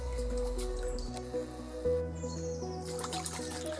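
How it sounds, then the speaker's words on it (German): A Puma hunting knife rinsed in an outdoor pond, soft splashes, squishes and drips of water close by, brief and fairly quiet, with bird calls in the background. "ich habe das Puma-Messer jetzt noch im Teich unten gewaschen"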